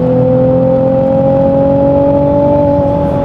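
A Japanese V6 car engine holds around 4000 rpm with a loud, steady tonal drone whose pitch creeps slightly upward, recorded close and with no talking.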